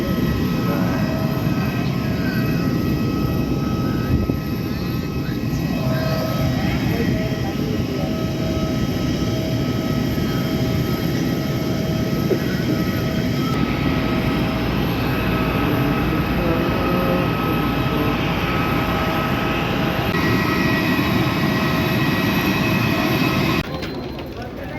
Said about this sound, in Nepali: अब हामी चाहिँ प्लेनभित्र जाँदैछौँ